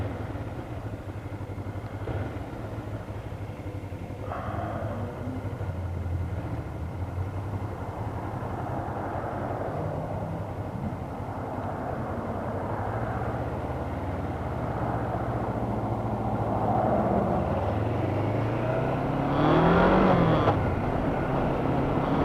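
A car on a road passes with a low engine rumble that builds slowly and swells loudest near the end, steady and mid-distance with no talk.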